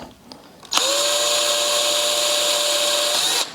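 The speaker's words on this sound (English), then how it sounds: "Just put our drill bit in here." A power drill drives a bit into a guitar body to bore a strap button hole, a brief tap and then a sustained loud whining buzz that runs steadily for nearly three seconds before cutting off.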